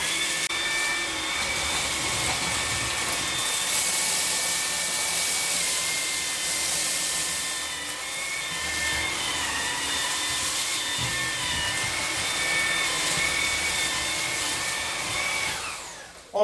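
A Xiaomi Dreame V11 cordless stick vacuum running in turbo mode gives a loud, steady high-pitched whine and airy rush that holds for the whole stretch before winding down at the end.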